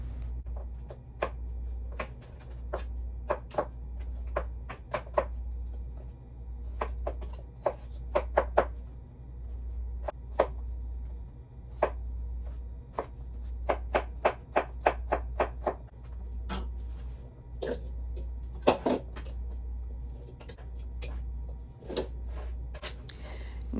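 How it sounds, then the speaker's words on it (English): A knife chops celery stalks on a cutting board for homemade chicken vegetable soup, giving a long run of crisp, close taps in uneven bursts over a steady low hum. "Now you can see that I'm going to be chopping up some celery stalks."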